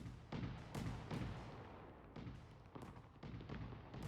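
Fireworks boom in the video game Fireworks Mania as a steady run of dull, muffled thumps and bursts, overlapping and fairly quiet.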